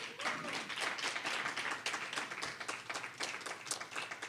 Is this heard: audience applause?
yes